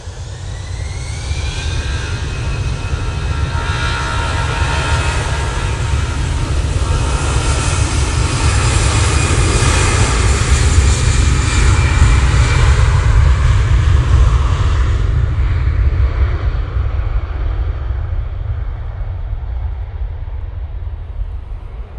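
An Emirates jet airliner moving onto the runway makes a loud, close turbine roar with a whining tonal edge and a deep rumble, building toward the middle and then easing as the high whine drops away.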